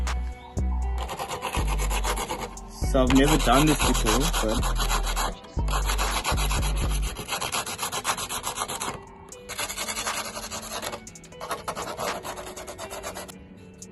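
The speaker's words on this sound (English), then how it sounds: "I'm going to get to sanding" A damaged surfboard tail is sanded by hand in a repair, with rhythmic rasping strokes in several long bursts separated by short pauses, loud and close, and someone speaks briefly at the start.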